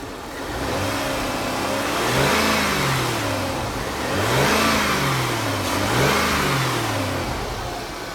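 A 2002 Rover 75 Connoisseur with a 2.5 V6 revs repeatedly and smoothly, its engine note rising and falling in several swells over a steady idle, close and alone with no talking.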